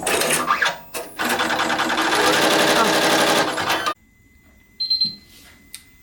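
A sewing machine doing embroidery with metallic thread runs in a steady, fast mechanical whir for about three seconds after a brief start, then stops, leaving near silence with a few faint clicks and a soft tone.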